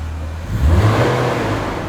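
A car engine revs up sharply, with a loud surge of rising engine tone followed by a sustained high-rpm roar, heard close and alone.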